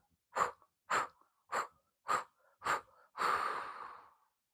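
A person doing chair yoga breathing exercises takes five short, forceful breaths in an even rhythm, then one long, drawn-out exhale, close and clear in a quiet room.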